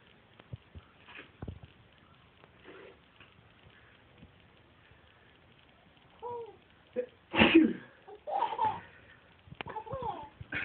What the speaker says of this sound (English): do you think it's funny when Daddy sneezes?